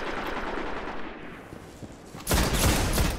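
Automatic gunfire in the video game Destiny, a dense rapid rattle of shots filling the clip, growing louder and harsher for the final second with no talk.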